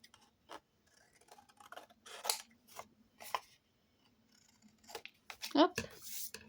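Scissors cutting paper for a handmade mini album, a series of short crisp snips spaced irregularly, close and clear, with someone speaking between the cuts.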